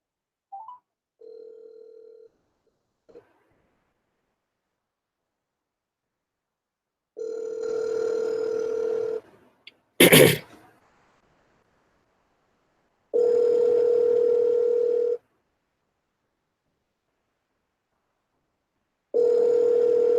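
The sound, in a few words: telephone ringing tone while waiting for call to be answered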